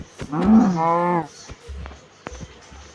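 A cow in a crafting and building video game lets out one loud, close moo lasting nearly a second, followed by light game clicks and footstep-like taps.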